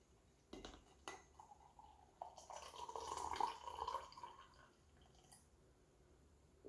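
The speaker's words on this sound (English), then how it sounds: "Then we take our Arnold Drummond and pour us up a cup." Coffee pours into a cup from a French press for a couple of seconds, a thin trickling splash, bracketed by light clinks and taps of dishware in a quiet room.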